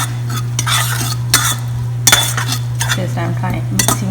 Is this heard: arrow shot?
no